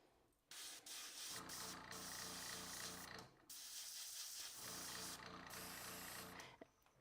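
Airbrush spraying acrylic paint onto an old cardboard test board: faint, steady airy hiss in three bursts of a couple of seconds each, with mechanical clicks between them.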